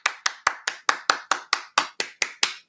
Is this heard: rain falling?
no